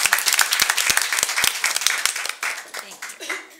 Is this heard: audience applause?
yes